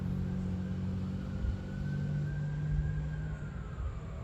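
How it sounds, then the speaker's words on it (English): A distant siren wails in a long, slowly rising tone over a low traffic rumble, fairly faint and continuous. "And they're the sirens again."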